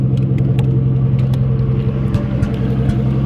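A Toyota JZX100 car engine idles roughly after a restart, a loud, close, low rumbling drone with slight unsteady pulsing and some faint clicks over it.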